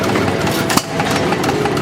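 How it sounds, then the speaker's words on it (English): A hit and miss engine on a hand-built miniature Rumely Oil Pull tractor runs steadily nearby, a continuous mid-pitched chugging drone with a brief knock partway through and no talking. "Got a little hit and miss engine in there."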